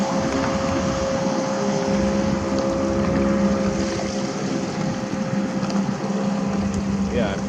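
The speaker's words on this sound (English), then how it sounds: "That boat cut behind there made a little wake." A motorboat runs steadily nearby on open water, its engine drone continuous and fairly loud through wind buffeting on the microphone, while a voice speaks faintly in the background.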